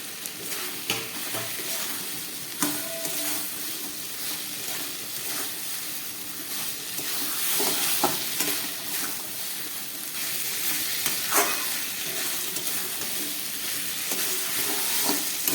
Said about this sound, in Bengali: গ্যাসটা একটু বাড়িয়ে দিলাম এতক্ষণ গ্যাস কমিয়ে কষিয়ে নিয়েছি এবার দিয়ে দিচ্ছি এই ভেজে রাখা আলুটা